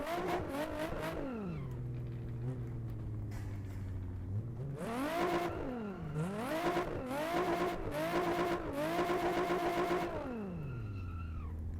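A Nissan 350Z engine in the racing game Assetto Corsa, driven on a server with traffic. It revs up and down repeatedly, with sweeping rising and falling pitch, a low idle between bursts, and a close, steady drone.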